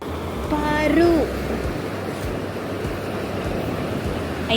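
Ocean waves washing up on the shore at Varkala's cliff beach, a steady broad rush of surf with wind noise, while a voice briefly speaks near the start.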